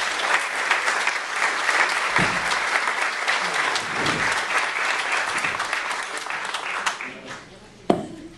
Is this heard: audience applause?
yes